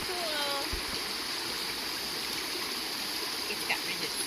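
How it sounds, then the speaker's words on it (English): Continuous broadband rush of river water flowing beneath a log crossing on the Appalachian Trail, steady and fairly close throughout, with faint birdsong chirps above it. "Super exciting river crossing on the log."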